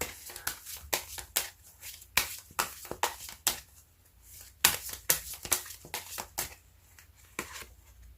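Tarot cards shuffled and drawn by hand in a series of crisp, close riffling and slapping bursts with short pauses between, no talking.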